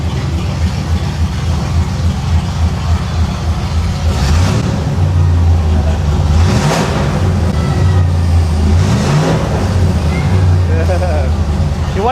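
A 1989 Pontiac Trans Am GTA engine runs loud and close, rising in several revs over a rumbling idle while people talk nearby.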